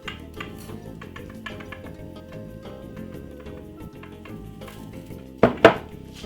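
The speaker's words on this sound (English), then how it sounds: "So we're gonna cream sugar and butter together" Butter and brown sugar are creamed together in a bowl, with soft, repetitive scraping and stirring strokes at close range. Two sharp clinks of a utensil against the bowl come near the end.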